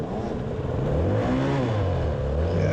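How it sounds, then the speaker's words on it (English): A loud, close enduro motorcycle engine at the Moab Hard Enduro prologue, revving steadily and rising and falling in pitch as it climbs, with constant mechanical clatter and no speech. "where you'll just hear the engine"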